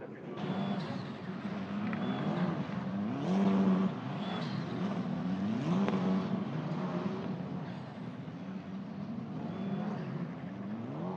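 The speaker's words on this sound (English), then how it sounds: "There is Tina Hausmann coming through in car 21" Formula 4 race cars in an Italian F4 championship race at Spa-Francorchamps, engines droning steadily with rising and falling pitch as cars pass, under continuous commentary.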